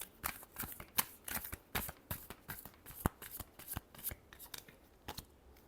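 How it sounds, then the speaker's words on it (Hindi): A deck of tarot cards is shuffled during a Scorpio reading, a fast, even run of crisp riffling snaps and flutters, close and steady with no talking. "क्या स्कॉर्पियो के पर्सन एक्शन लेंगे? Last shuffle."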